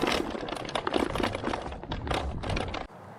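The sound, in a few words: Xiaomi M365 Pro scooter folding stem rattling without rubber damper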